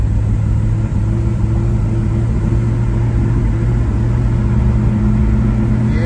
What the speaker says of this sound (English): It's still running rough.